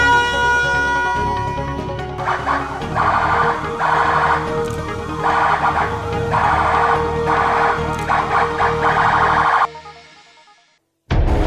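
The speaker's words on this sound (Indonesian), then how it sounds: "Dengan bunyinya sirine tanda bahaya" A tsunami warning siren at a naval base disaster drill in Bitung, Indonesia, wails in regular rising and falling cycles for several seconds, then cuts off abruptly into near silence.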